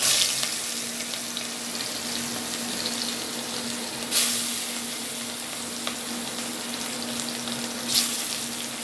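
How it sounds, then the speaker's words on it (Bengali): Rohu fish frying in hot oil in a kadai gives a steady, close, dense sizzle with no voices, broken by two sharp spattering bursts partway through and near the end. "এই দিলাম কড়াইয়ে, মাছ ভাজি করব প্রথমে।"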